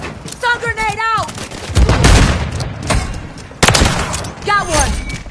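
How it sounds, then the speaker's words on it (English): Call of Duty MWIII combat erupts with a stun grenade thump and bursts of rapid gunfire, heavy close booms mixed with sharp rattling shots, while chirping whistle-like effects sound at the start and again near the end. "Stun grenade out!"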